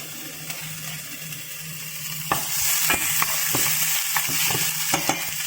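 Garlic frying in a pan as the base for pinakbet with leftover lechon kawali: a steady close sizzle with sharp scraping clicks from stirring, no talking.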